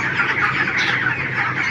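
Many chickens cluck and chatter together inside a poultry shed, a dense continuous flock noise at steady moderate loudness with no talking.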